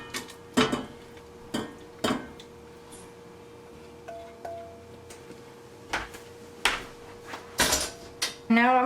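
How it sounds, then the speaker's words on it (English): Mixed strawberries and blueberries go into a regular saucepan as a series of sharp clinks and clatters of utensil against pot, scattered irregularly and close by, with faint background hum. "The first thing we're gonna do is add the berries to it."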